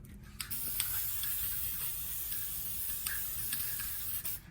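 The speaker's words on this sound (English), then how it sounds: "Spray, spray, spray." An aerosol can sprays sealer onto a cardboard boomerang outdoors, a continuous close hiss broken by brief pauses between passes.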